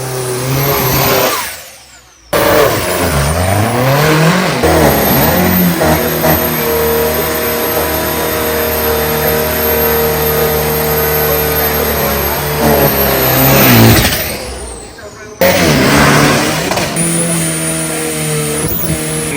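Loud, sustained engine roar of a drag racing truck building revs and accelerating hard, with a brief drop in volume and a second burst near the end, at a drag race in Asia.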